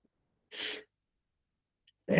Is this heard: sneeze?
yes